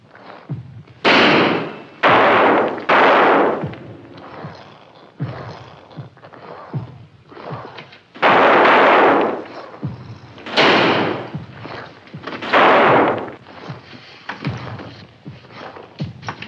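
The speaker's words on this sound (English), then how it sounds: "And shoot straight, don't waste a shot." Gunshots in a 1950s horror film scene, several loud sharp bangs in irregular bursts with quieter gaps between, some echoing, with no talk.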